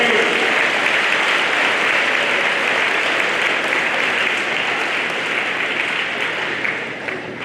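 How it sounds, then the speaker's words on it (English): A school assembly audience gives a loud round of applause, dense and continuous clapping from a large crowd filling about seven seconds and easing slightly at the end. "Round of applause for everyone who participated in the Peace Ball game."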